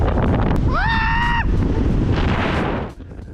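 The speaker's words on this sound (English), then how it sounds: "It's so windy!" Strong wind buffets the microphone in a loud, continuous roar in Taiwan, with a brief rising tonal whine partway through before the gusts drop off near the end.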